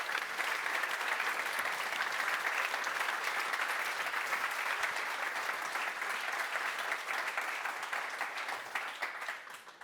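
Sustained crowd applause at the Neos Con 2024 award presentation for winner Pavel, a dense, even roar of clapping from a large audience lasting nearly ten seconds before easing slightly at the very end.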